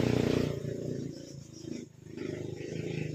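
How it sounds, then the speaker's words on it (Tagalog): Motorcycles pass on a nearby road beside a banana plantation, their engines droning steadily with swelling and fading revs as they go by, fairly close and continuous. "Ang ingay ng mga motor."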